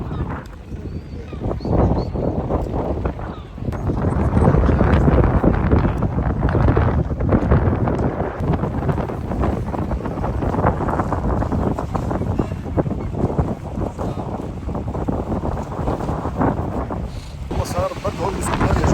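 Strong, cold, gusty wind roars across the microphone in Üsküdar square, Istanbul, a constant low rumble, buffeting steadily from start to finish.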